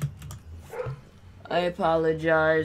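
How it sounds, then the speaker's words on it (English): A few short dog barks come from the background at the start, fairly muffled, before a voice takes over and talks through the rest. "Excuse my dogs barking."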